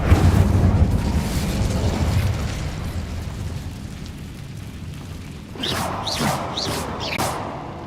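A fire spell cast in the video game Hogwarts Legacy, heard as a heavy whooshing burst with low rumble, followed later by a few sharp crackling bursts of flame and impact, loud and close over game ambience.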